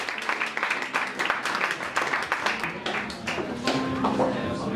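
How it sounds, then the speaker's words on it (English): A small Soho audience claps for a performer about to rap, the applause scattered and uneven, with some chatter and shouts among the claps. "A round of applause,"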